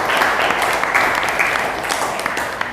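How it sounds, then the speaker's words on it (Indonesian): Students in a classroom break into steady applause, a dense patter of many hands clapping close by that carries on for a few seconds and slowly tapers off. "Tepuk tangan buat kalian semua."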